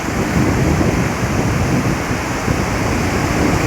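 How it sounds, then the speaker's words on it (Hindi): Steady, dense roar of the rushing Poonch River, constant and loud throughout with no pauses. "रिवर पूंछ का शोर सुन रहे हैं व्यूअर्स"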